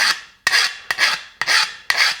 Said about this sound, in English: we're gonna just file down some of these rough edges and burrs and everything off of here